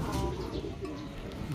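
Racing pigeons coo softly after landing, low repeated throaty calls under windy outdoor noise, faint and close together.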